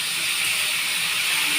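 Boiled banana flower tipped into a pan of soaked chickpeas, giving a steady, loud broadband hiss and sizzle that holds evenly throughout and cuts off abruptly, with no voices.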